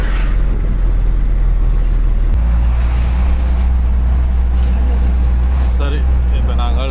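Busy road traffic in Wellawatte: a continuous loud rumble of cars, buses and trucks, close by and steady throughout, with someone talking over it.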